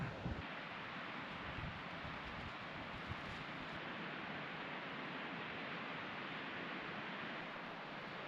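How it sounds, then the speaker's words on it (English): Wind gusts past a tent pitched while wild camping in the Glyderau mountains of North Wales, a steady, full roar of rushing air that holds through the whole stretch with no talking. "I've been laying here listening to that wind out there."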